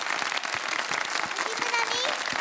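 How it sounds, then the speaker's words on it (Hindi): A small group claps in a quick burst of applause for a child, close and lively, with a voice briefly heard over it. "तालियां बजाएं बाबा, वेरी गुड"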